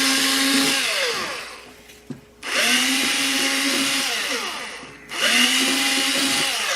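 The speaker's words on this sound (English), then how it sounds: "So I've got to drill these holes out to 3/16." A power drill whines at high speed in two long runs, drilling holes in a case handle out to 3/16 inch, winding down in pitch between them, loud and close.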